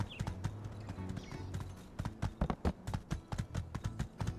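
Horse hooves clip-clopping in the video game My Time at Sandrock, a quick steady run of hoof beats that grows louder and more distinct as it goes, with no speech.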